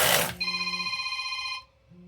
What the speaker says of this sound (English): Oop, phone call.